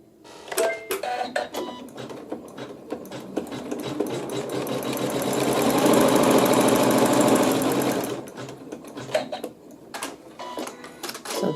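A sewing machine stitches a tack-down seam in a quilting project, starting with a few short stitching bursts and handling clicks before a sustained, louder run of rapid needle chatter that swells and then stops, followed by more clicks.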